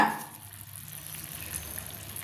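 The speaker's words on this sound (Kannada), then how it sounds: "ನೋಡಿ ಈ ರೀತಿ ಪಳಪಳ ಕುದಿಯುವಾಗ" Green chili chutney bubbling in a pan on the stove: a quiet, steady sizzling bubble, closely miked and soft, continuing without pause and with no voices.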